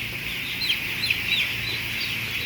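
Broiler chickens clucking on a farm in Taiwan, a few short rising clucks and calls over a steady background hum of a poultry house, fairly close, no talk.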